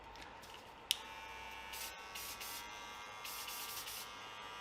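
Cool Care spray hissing onto hair clipper blades in short bursts, over a steady background hum from the running clipper, with a sharp click near the start.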